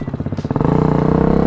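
A 2020 Hawk 250 Enduro motorcycle engine chugs in close, loud, rapid pulses that quicken and smooth into a steady buzz as it revs up.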